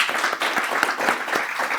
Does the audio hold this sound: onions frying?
no